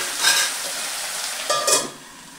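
Tomatoes frying in a pan for okra chutney give a soft sizzle with stirring scrapes, swelling in two brief bursts over a steady low hiss.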